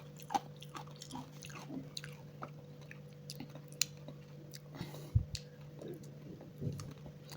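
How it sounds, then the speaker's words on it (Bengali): Crunchy nakshi pitha, a decorated rice-flour cake soaked in jaggery syrup, being chewed close up, with soft irregular crunches and bites spread over several seconds and a steady low hum in the background. "এবার নকশি পিঠা খাচ্ছি, কুড়কুড়ে মুড়মুড়ে, এত মজা।"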